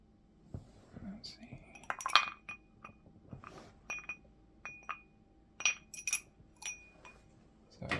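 Ice cubes clink against the inside of a cup in a series of sharp, bright taps scattered through the moment, close and fairly quiet, with faint low murmuring underneath.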